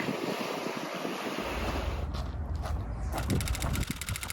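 Surf washing onto a deserted sandy beach in Andalusia, a steady broad rush of waves with wind buffeting the microphone throughout, continuous and fairly close.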